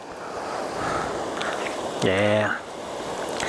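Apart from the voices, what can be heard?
man-made waterfall flowing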